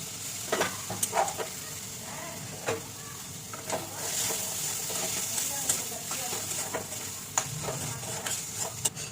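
Fish and boiled potato mixture sautéing in a pan, a soft steady sizzle with regular scraping stirs of a spatula, close and fairly quiet.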